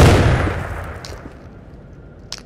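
A grenade blast in the VR game Into the Radius, heard as a loud, close boom at the very start that fades away over a couple of seconds with a faint rumbling tail.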